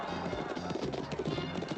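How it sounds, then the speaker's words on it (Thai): Racehorses galloping out at the start of a race at the old Nang Loeng racecourse in Thailand, a dense, continuous rumble of hooves, loud and close, with a commentator's voice faintly mixed in. "ม้าออกแล้ว"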